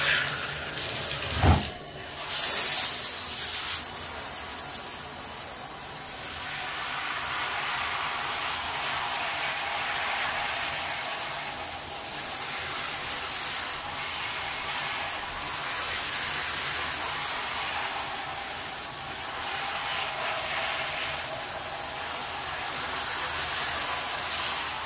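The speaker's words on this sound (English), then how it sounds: "I'm gonna take it to the tub so that we can rinse it out" Water running steadily into a bathtub while a synthetic wig is rinsed, a loud continuous hiss with a short clatter near the start and gentle swells in the flow, with no talk.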